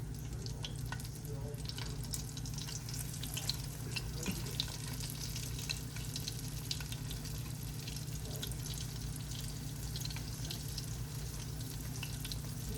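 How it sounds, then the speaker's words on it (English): Chicken sizzles steadily and close in frying oil, a constant hiss with faint stirring, and no talking. "They're frying nicely, starting to brown a little bit."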